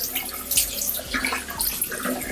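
Warm water runs from a tap into a bathroom sink in a steady, close stream, with small splashes and gurgles as hands move through it.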